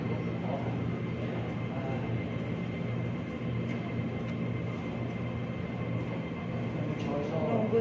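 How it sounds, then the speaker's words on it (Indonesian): A train runs with a steady low rumble and rolling noise, as if from inside the carriage, continuous and moderately loud, with faint voices in the background. "kereta api ya."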